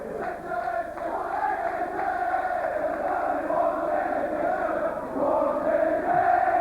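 A sparse crowd at a rugby league match between St Helens and Hull KR on a bitterly cold day, giving a steady distant murmur with faint calls and no clear cheering peaks.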